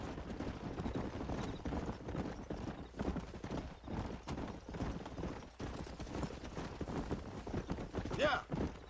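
Horses' hooves clip-clop in the western video game Red Dead Redemption as a herd is driven, a steady close rhythm of many hoofbeats throughout, with a whinny near the end and speech underneath.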